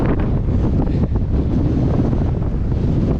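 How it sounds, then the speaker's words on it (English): Strong wind buffets the microphone across an open field in Alaska, a loud, continuous rumbling roar with no pauses. "It's really windy if you can't tell."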